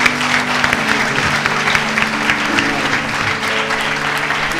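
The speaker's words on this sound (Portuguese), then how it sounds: "Uma salva de palmas ao Senhor." A church congregation at a worship service bursts into loud, sustained applause, dense clapping filling the hall, with voices and a low musical drone or organ tone underneath.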